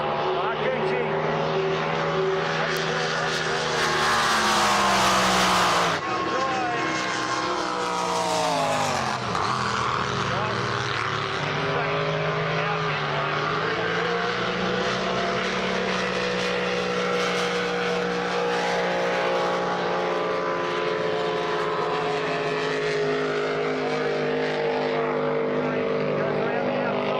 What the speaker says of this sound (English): Still underway, gets back up to speed now, you can hear the revs rise.